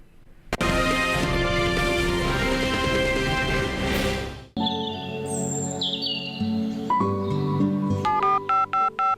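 A telephone line connects a caller to a farm news program, with a sustained dense tone, a short run of chirpy dialing beeps, and then a regular series of ringing pulses, clear and without talk.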